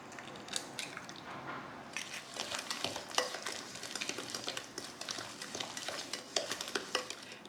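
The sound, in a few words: mixing an egg into creamed cookie dough by hand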